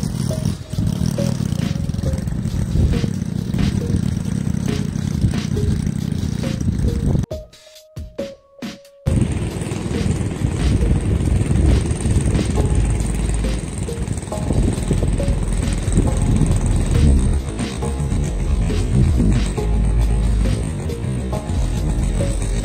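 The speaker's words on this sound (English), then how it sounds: "I got out in my garden and started tilling up them wood chips in" A garden tiller engine running steadily while tilling wood chips, a loud buzzing drone that briefly cuts out and dips before roaring back up and continuing, no speech.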